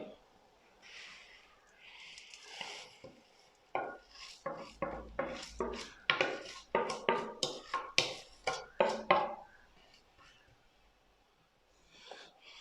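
Vermicelli dropped into a pan of boiling milk and stirred, a run of close, fairly loud scraping and knocking strokes in a steady rhythm, opened and closed by softer rustling.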